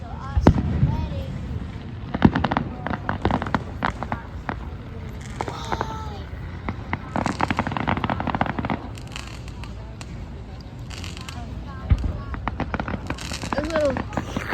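Fifth of July fireworks crackle and pop in scattered bursts, some sharper bangs among rapid firecracker snaps, while people talk throughout.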